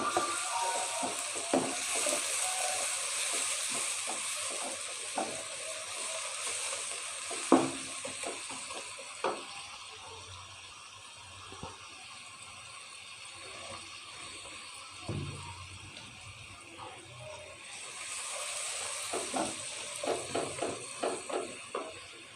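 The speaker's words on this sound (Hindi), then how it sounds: "इसको 2-3 मिनट के लिए भून लें।" Palak gosht, a deghi-style spinach and meat curry, fries in a pot with a steady crackling sizzle, punctuated by scattered stirring knocks and scrapes throughout, with no voices.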